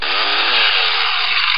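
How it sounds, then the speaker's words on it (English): A chainsaw sound effect from a soundboard, a loud, buzzing motor drone that holds steady for about a second and a half, heard alone without voices. "You might want to get the chainsaw out."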